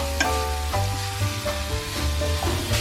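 Cauliflower florets being stir-fried with broad bean paste and garlic in a hot pan, a steady sizzle with spatula stirring. A low humming tone runs underneath throughout, and no one speaks.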